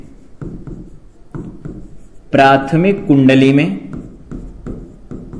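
A teacher's chalk or pen scratches out a series of short writing strokes during a physics lecture on transformers, with someone speaking over the middle of the clip.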